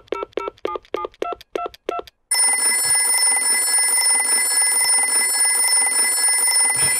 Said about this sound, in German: wenn mein Telefon so klingeln wird